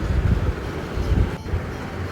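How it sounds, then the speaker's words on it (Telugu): A park toy train rumbles steadily with low, wind-buffeted noise, close by, with no talking. "ఈ ట్రైన్ మొత్తం పార్క్ అంతా ఒక రౌండ్ వేస్తుంది"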